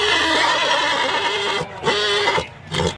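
Horse whinnying loudly at a Romería del Cristo de la Luz pilgrimage in Hontanares, Lanzahíta, Ávila: a long, close, wavering neigh followed by two shorter whinny bursts.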